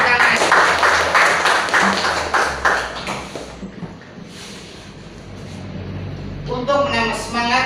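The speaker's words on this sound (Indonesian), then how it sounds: "Tepuk tangan." Students in a classroom clap their hands together in a brisk, loud round that fades after a few seconds into quiet rustling, followed by someone speaking.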